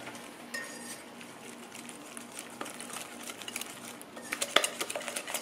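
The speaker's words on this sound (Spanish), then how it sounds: "vamos a echar el azúcar flor. La taza y media de azúcar flor." Powdered sugar being added to a bowl for Chilean calzones rotos, with soft pouring and scraping and light clinks of a utensil against the bowl, close and fairly quiet, with no talk.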